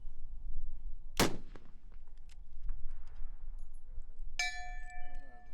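A long-range rifle shot fired at a target two miles away, heard as a single sharp, loud crack followed by quiet outdoor background and faint clinks.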